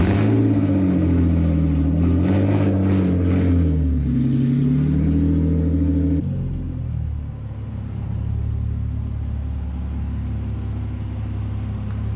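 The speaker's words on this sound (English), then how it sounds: "first, got to move my drift car to the garage right next to it" A drift car, a Nissan 350Z, rolls into a garage with a loud, close engine rumble: several rising and falling revs early on, then a lower, steady idle-like drone to the end, with no talk.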